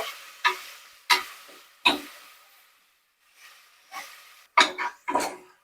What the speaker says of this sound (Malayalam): ഹൈ ഫ്ലെയിമിൽ വെച്ചിട്ട് ഞാൻ ഫ്രൈ ചെയ്യുന്നുണ്ട്